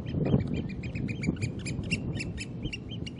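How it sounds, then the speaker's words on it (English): Oystercatchers call in a rocky coastal spot on the Isle of Mull, anxious over nearby gulls: a steady run of sharp, high piping notes repeats close by over a low rumble of wind or surf. "These oyster catchers"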